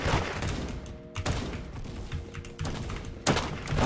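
Gunshots in the Roblox game Da Hood crack in quick bursts, clustered shots separated by brief pauses, loud and close over a busy game background.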